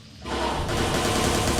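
Dense, loud automatic gunfire in the open-world action game Watch Dogs 2 bursts in after a brief quiet moment and continues as a sustained, rapid rattle without talk.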